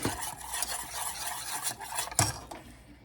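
Grain-free gravy stirred in a pot on the stove, a quiet continuous swirl and scrape of a utensil against the pot with a faint sizzle and one sharper clink.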